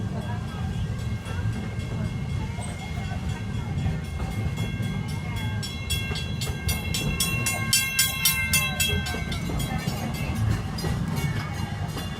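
Magic Kingdom Railroad steam train rolling along steadily, a continuous low rumble and rhythmic clatter of railroad cars with bright whistle-like tones rising midway, close and fairly loud throughout.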